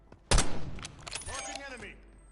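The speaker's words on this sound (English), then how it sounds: "Small caliber rounds here." A sharp burst of small caliber gunfire in Call of Duty: Warzone, cracking loudly near the start and trailing into echoes as a voice speaks.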